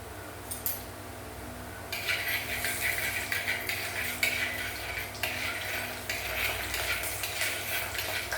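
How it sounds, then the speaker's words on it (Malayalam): Fenugreek seeds crackle and spit in hot oil in a pan while cooking a mackerel curry, a steady fizzing hiss with small pops and occasional light scraping of a stirring spoon, close and fairly quiet. "ഉലുവ പൊട്ടട്ടെ കേട്ടോ."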